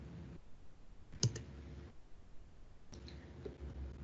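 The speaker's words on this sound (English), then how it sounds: "I can scroll to the top of the page and click the Save button" A computer mouse clicking the Save button: two or three faint, sharp clicks spaced apart over quiet background hum.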